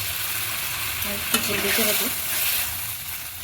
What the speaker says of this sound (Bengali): জল দিয়ে মশলাগুলো সব সবজি আর মাছের মধ্যে মিশিয়ে নিলাম